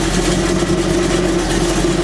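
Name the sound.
car engine running with damaged mufflers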